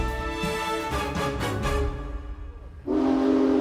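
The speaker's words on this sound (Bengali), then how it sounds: "ট্রেন এগিয়ে আসছে।" A train approaching in an audio drama: steady, layered horn-like tones hold for a few seconds, then thin out and swell into a loud, sustained whistle blast near the end, with no voices.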